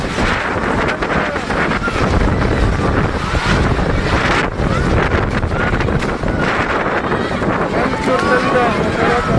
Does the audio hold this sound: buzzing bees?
no